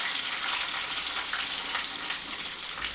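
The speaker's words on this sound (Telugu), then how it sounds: "ఒక 4 గార్లిక్, కొంచెం కరివేపాకు వేసాను. బాగా ఫ్రై చేసుకోవాలి." Garlic cloves, dried red chillies and curry leaves frying in oil in a pan, a steady close crackling sizzle that holds level throughout with no talk.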